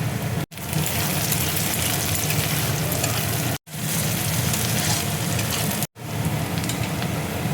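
Chopped onion, garlic and green chilli fry vigorously in hot oil for a mushroom matar masala, a loud, dense, close sizzle broken by three brief silent gaps.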